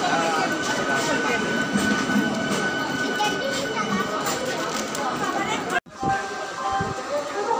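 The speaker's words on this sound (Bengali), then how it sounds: "6 নম্বরে ট্রেন পেয়ে গেছি" A train rumbles steadily at a busy railway station platform, with a constant roar of engine and crowd noise and a brief sharp dropout near the end, while people talk throughout.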